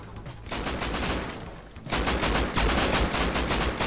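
Rapid automatic gunfire in the survival video game Rust, a short burst followed by a denser, louder sustained volley of shots fired in close succession, with no voices.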